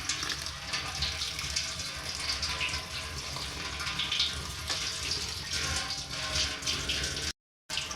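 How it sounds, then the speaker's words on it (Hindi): Tap water runs steadily into a kitchen sink while fresh coriander is washed, a continuous close rushing splash with no one speaking. "धनिया कर लूँगी मैं वॉश।"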